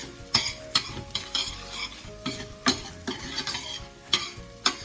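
Onions and crushed bouillon cubes are stirred in a cooking pot, a spoon knocking the pot in a steady series of sharp taps over a low sizzle, close up, with no talking.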